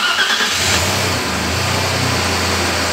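An Audi A6 2.4 V6 engine already running after a starter repair, holding a steady low hum close by with a slight rise early on, no voices.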